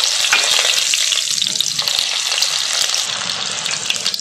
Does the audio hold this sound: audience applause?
no